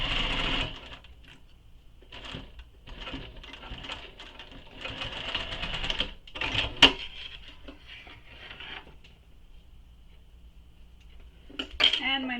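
A domestic sewing machine stitches a bag's lining to a zipper in uneven bursts of rapid mechanical whirring, broken by short pauses and a couple of sharp clanks.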